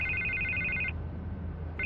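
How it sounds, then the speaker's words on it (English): A telephone rings in a Batman Telltale video game scene, a steady electronic ring sounding for about a second, pausing, then starting again, with a low hum underneath. "I can't get the phone to stop ringing."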